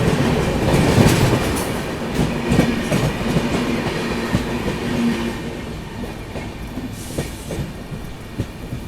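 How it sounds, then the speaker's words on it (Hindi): The IRCTC Tejas Express from Lucknow to New Delhi rolls past slowly on an adjacent track, loud and close, with rhythmic clickety-clack of wheels over rail joints and rumbling coach noise, heard from inside another moving train. "लखनऊ न्यू दिल्ली IRCTC तेजस। काफ़ी स्लो क्रॉसिंग देखने को मिल रही है भाई।"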